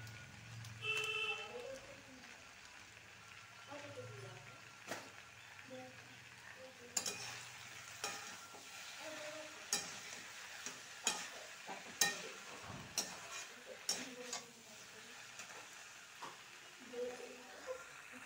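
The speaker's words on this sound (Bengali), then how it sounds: "কাঁঠাল আলু ভাজা ভাজা হয়ে গেছে মশলা দিয়ে" Jackfruit and potatoes fried in a pan with ginger, chilli, cumin and coriander paste: a soft, steady sizzle under repeated scraping and stirring clatter of a spatula, with brief talk near the start.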